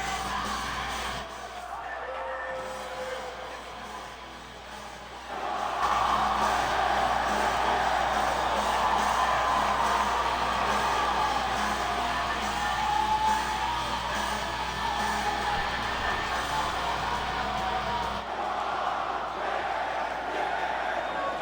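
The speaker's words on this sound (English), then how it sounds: "This ECW crowd is raucous." A raucous ECW wrestling crowd in a video game roars and cheers steadily, a dense wash of yelling that swells after the first few seconds and holds loud throughout.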